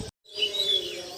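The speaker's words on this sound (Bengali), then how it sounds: "চারিদিকে পাখি ডাকছে" Birds chirping in the early morning after a storm, a few thin high tweets over a quiet outdoor background, faint and brief after a short gap.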